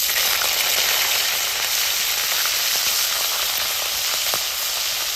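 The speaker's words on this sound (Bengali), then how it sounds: "তেলের মধ্যে ভাজে দিব।" Salted hilsa fish heads frying in hot oil, a loud, steady close sizzle and hiss that holds at an even level throughout, with no talking.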